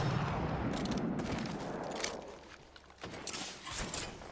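Gunfire in Apex Legends, a battle royale shooter: quiet, distant-sounding rattling bursts of shots come in short clusters over a soft rumbling background.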